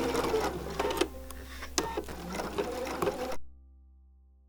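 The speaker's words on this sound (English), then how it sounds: "now I like to go over to the machine and just sew these down" A sewing machine runs steadily, stitching down the fabric loops of a jacket, close and fairly loud with a few sharper clicks, then stops abruptly and leaves near silence.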